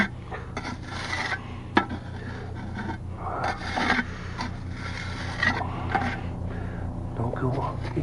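Small blade scraping along the edge of a plastic container while making a self-filling oya, a steady raspy rubbing with a few sharp clicks, close up, under a constant low hum.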